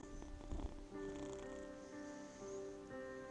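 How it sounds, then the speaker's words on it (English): A pet cat purrs close to the microphone, a soft rhythmic rumbling that continues steadily, with a brief louder thump early on and video game sounds faintly in the background. "That's my sister's cat Leonard."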